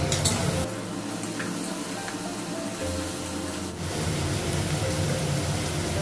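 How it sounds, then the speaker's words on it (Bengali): Frying with salt, cumin and ginger paste in a pan, a continuous dense sizzle with an occasional stir or scrape, steady and close with no talking. "লবণ দিলাম, জিরা করে দিলাম, আদা বাটা দিলাম, একটু ভেজে নেব।"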